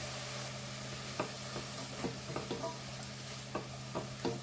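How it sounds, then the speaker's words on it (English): Mixed vegetables with green peas and corn fry in a pan over a gentle flame, a quiet continuous sizzle broken by a series of light, separate spatula scrapes and taps. "Fry the vegetables."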